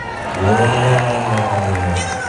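A large audience at a Lord of the Rings anniversary event bursts into applause and cheering, a dense, loud swell of clapping and whoops that peaks early and carries on steadily.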